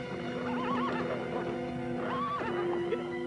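A horse whinnies in a series of wavering, high neighs, with a second long, rising call near the end, heard alone at moderate distance over a faint background hum.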